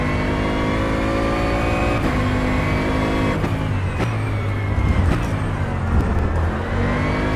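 GT3 race car engine in rFactor 2 droning loudly and continuously, pitch rising and falling through gear changes, with no voices.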